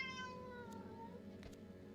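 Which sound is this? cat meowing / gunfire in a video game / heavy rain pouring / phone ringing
cat meowing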